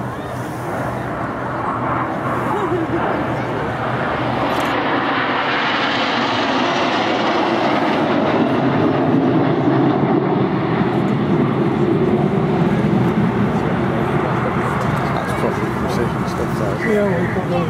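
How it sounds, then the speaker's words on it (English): A Concorde airliner flies past at the Farnborough air show in 2012, a loud, broad engine roar that builds and swells over many seconds, with commentary talk running over it. "This is Concorde."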